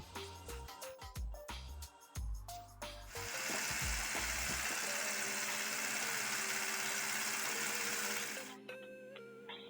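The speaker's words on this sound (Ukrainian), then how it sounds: "Та все це перебиваємо блендером з насадкою вінчик або міксером до побіління маси." A few clinks and knocks, then an electric mixer with a whisk attachment whirs loudly and steadily for about five seconds, beating a mixture until pale, before switching off, leaving a faint hum.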